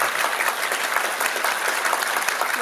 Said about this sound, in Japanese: 皆様、なお盛大な拍手でもってよろしくお願いします。